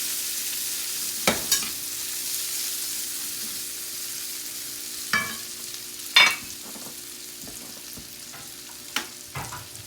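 Onions are stirred in a hot pan over residual burner heat, with a continuous low sizzle broken by scattered scraping clacks of a utensil against the pan, close and alone.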